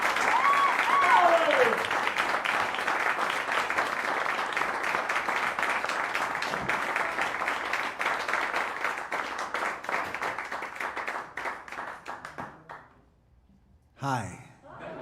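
An audience at Caffe Lena applauds to welcome a folk singer, with dense, sustained clapping that slowly thins out and then stops. A few voices follow near the end.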